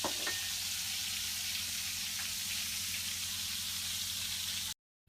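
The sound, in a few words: food frying in hot oil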